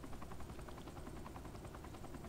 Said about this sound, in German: So, ich habe gleich einen besseren Heli.